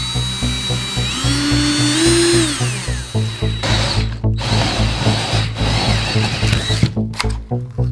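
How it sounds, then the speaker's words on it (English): A power drill fitted with a hole saw bores through a garage wall, whining loudly and steadily with a rising, then falling pitch and rough grinding as the cutter bites, running continuously with brief stutters near the end. "when you take the hole saw, you can start it in the right place"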